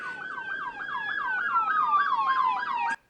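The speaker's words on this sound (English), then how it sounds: "I think the cop sirens came at the exact right time" Police car siren in Singapore, a rapid repeating wail sweeping up and down in quick cycles, fairly distant and steady, then cutting off abruptly near the end.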